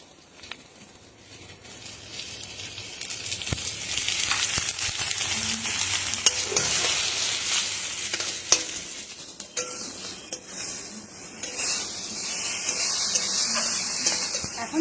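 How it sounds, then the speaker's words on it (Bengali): Radhuni seeds and dried red chillies tempering in a little oil for a leafy greens dish, giving a steady, close hissing sizzle that swells and stays bright throughout, with occasional stirring clinks and no talking. "অল্প তেলে রান্না করব ফোড়ন দিয়ে দেবো ফোড়নে দেবো রাঁধুনি আর শুকনো লঙ্কা"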